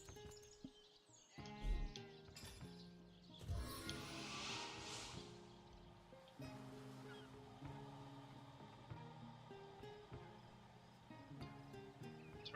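Sheep bleat in a video game, several calls rising over a bed of game music and ambient water-like sound, moderately close and fairly loud, with no talk over them.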